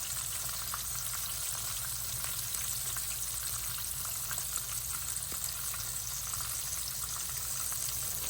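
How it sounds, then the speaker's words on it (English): Floured pork chops frying in a pan of grease give a steady, close sizzle with a dense crackle that holds evenly from start to finish, with no voices over it. "I'm gonna go ahead and flour these other two pork chops and get them down in this grease as well"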